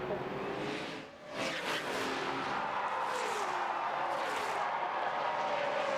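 Stock cars racing at Talladega during the final dash for the win after a backstretch wreck, with a continuous roar of engines and passing cars, broadcast commentary running underneath.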